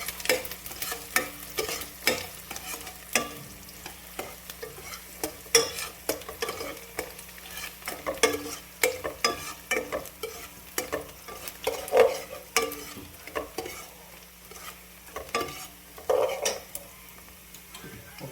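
Onions and curry leaves sauté and crackle in a pan for Tamil egg masala while a spoon stirs steadily, giving a continuous sizzle broken by frequent close scrapes and clinks against the metal.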